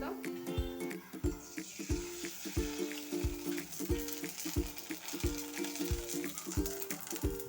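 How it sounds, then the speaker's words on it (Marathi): Wheat kurdai fry in hot oil with a steady, close sizzle, while regular clinking strokes of a utensil in the pan repeat through the whole stretch. "या ठिकाणी तुम्ही पाहू शकाल आपल्या कुरड्या तळून छान झालेल्या आहे"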